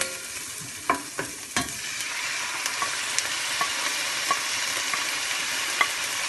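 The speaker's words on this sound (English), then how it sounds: "And fry until it gets lovely golden brown." Onion paste fries in a pan for chicken curry, a continuous close sizzle broken by several sharp spatula knocks and scrapes against the pan, spaced irregularly, with no talking.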